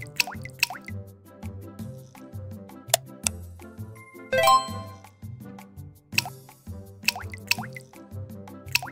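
Water drips in an Elmo's bathroom scene from a Sesame Street game, a run of clear plinking drops spaced irregularly over a soft musical backing, close and fairly quiet with no talking.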